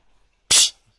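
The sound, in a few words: hedgehog sneezing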